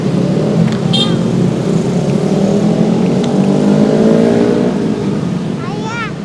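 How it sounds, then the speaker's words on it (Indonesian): Loud, steady motorbike engine drone heard while riding, constant and close throughout, with voices talking over it. "Berisik banget motornya."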